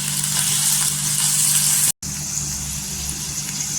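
Potato pieces frying in a small amount of oil, a steady close sizzle with a low hum running beneath it and a brief cut to silence midway.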